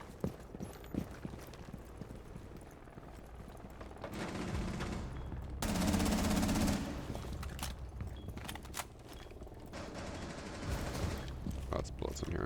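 Video game gunfire rattles in scattered sharp shots and denser bursts at moderate distance, with a louder sustained stretch midway, while someone talks intermittently over it.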